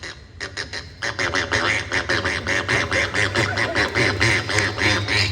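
A performer on a comedy mimicry stage imitates a duck, producing a rapid run of nasal quacking calls, loud and close, repeating steadily throughout without pause.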